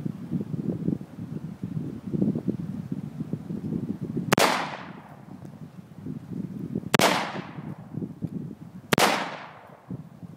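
Three sharp, loud rifle shots from a rifle fitted with a flash suppressor ring out outdoors, each trailing a short echo, over steady wind noise and rustling, spaced a couple of seconds apart.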